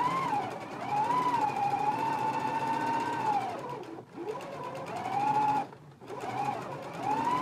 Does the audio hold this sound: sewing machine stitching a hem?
yes